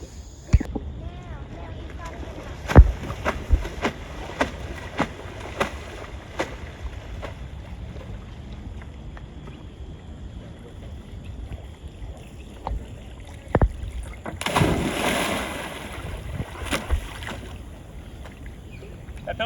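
Paddle strokes on flat water as a rider paddles a foil board up, with rhythmic splashy strokes and water wash under light wind noise, ending in a rushing hiss as the board rises onto the foil.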